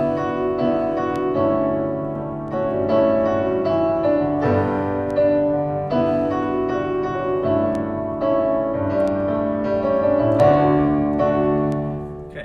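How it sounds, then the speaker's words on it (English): A basic digital acoustic piano sound generated by a computer and played from a keyboard controller, sustained chords and melody notes ringing continuously with steady, moderate loudness and no voices. "So that's kind of a basic piano sound"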